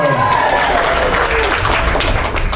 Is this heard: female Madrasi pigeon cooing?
no